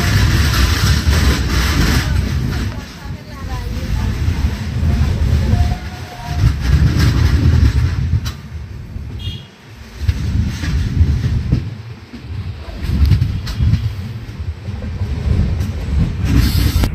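Kondaveedu Express passenger train rolling through a station at a scheduled two-minute stop, a continuous loud rumble of wagons on the rails with faint clatter and a brief squeal, running steadily for the whole stretch.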